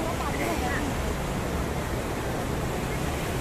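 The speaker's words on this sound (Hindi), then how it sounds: "बहुत ज़्यादा इतना शोर है ना झरने का बहुत ज़्यादा शोर हो रहा है यहाँ पर" A loud, steady roar of rushing water fills the clip, broadband and unbroken, from the Shivnibandh waterfall heard up close.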